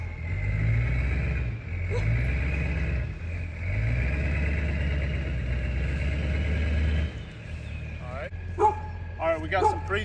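A dump truck's diesel engine idles steadily at close range with a deep, even rumble, used to pull a leaning tree during felling. People talk over it, and the engine note cuts out near the end.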